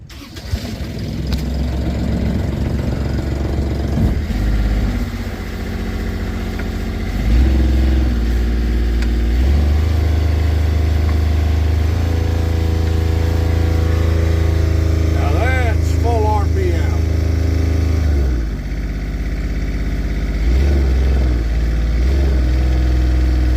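A sailboat's inboard engine, fitted with a newly replaced Morse throttle cable, cranks and fires, then idles steadily with a deep rumble that rises as it is revved, while people talk intermittently nearby.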